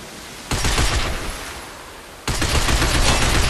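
Automatic gunfire at a sign during target practice in the video game Binary Domain, with two loud sustained bursts, a dense roar from about half a second in and again from just past two seconds, close and with no voices.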